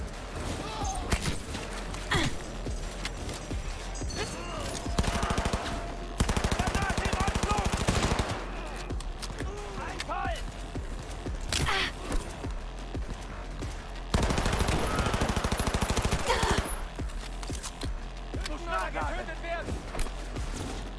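Bursts of automatic gunfire from weapons in the video game Cyberpunk 2077 come in repeated rapid volleys with pauses between them, mixed with game effects and occasional voices.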